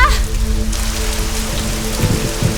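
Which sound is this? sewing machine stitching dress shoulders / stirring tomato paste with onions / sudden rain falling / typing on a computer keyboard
sudden rain falling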